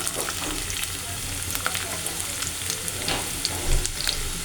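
Onions frying in oil in a pan while being stirred, a steady close sizzle with occasional spatula scrapes and clinks.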